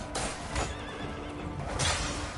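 A horse whinnies in Crimson Desert, a couple of rough neighing bursts over steady game background noise, with no talk during it.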